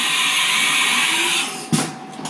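Machine tool running a tap dry into a freshly drilled hole in a bolt, a loud steady whirring that winds down near the end, followed by a short knock and a quieter whir.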